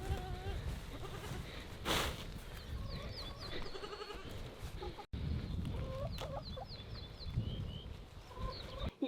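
Goats on a farm bleating repeatedly in eager, overlapping calls as branches are brought to them, with chicken-like clucks and other animal sounds mixed in nearby and a steady outdoor background.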